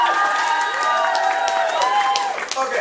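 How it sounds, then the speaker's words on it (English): Lively audience at Java Jive 2017 applauding and cheering, with loud sustained clapping mixed with high excited whoops and shouts throughout, close and full. "so round of applause for her."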